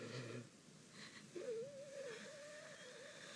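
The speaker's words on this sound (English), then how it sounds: "Oh, weird breathing" Strained, wheezing breath from a horror film scene, a faint rasp under dim background music, then a rising, wavering whine near the midpoint that drifts on, steady and moderately loud.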